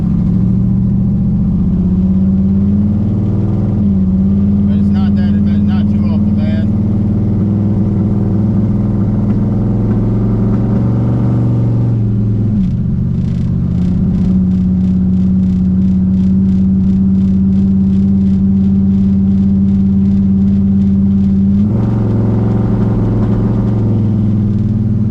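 A 1968 Plymouth Roadrunner engine runs loud and close with a steady rumbling idle, missing a little on its plugs. The revs shift briefly a few times throughout.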